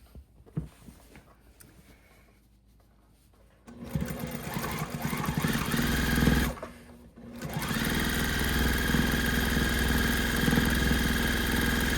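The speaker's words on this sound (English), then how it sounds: "we're gonna turn and we're gonna start sewing right at the very top" A sewing machine stitches binding onto a quilt. After a quiet stretch of handling noise it starts with a loud, steady close whir, pauses briefly, then runs on continuously to the end.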